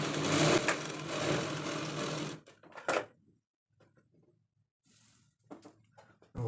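A sewing machine runs in a close, fast whirring burst while stitching a blouse lining, then stops, followed by faint handling clicks and a short final run.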